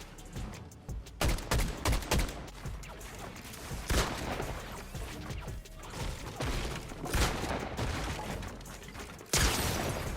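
Rapid bursts of gunfire in a shooter video game, sharp cracks and stuttering automatic volleys spread through the stretch, loud and close, with a heavier burst near the end.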